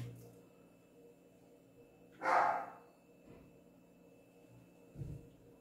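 A single sharp dog bark rings out mid-way through a quiet stretch, followed later by a fainter, lower thump.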